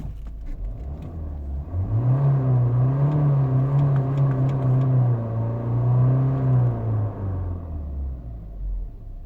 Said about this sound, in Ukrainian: Класна дуже робота двигуна